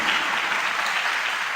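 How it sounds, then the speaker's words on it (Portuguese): Brief burst of congregational applause in a church service, an even, continuous wash of many hands clapping at close range. "Dê uma salva de palmas para o Senhor Jesus"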